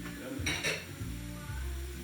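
Mince being tipped into a hot pan and stirred while cooking steak pudding filling, a soft sizzle with brief scraping and clinks of a utensil against the pan, close and steady, no talking.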